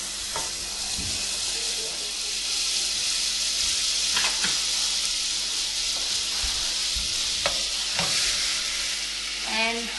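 Butter melts and sizzles in a hot pan on high heat with onion and garlic, a steady loud hiss running throughout, broken by a few soft stirring scrapes and clicks.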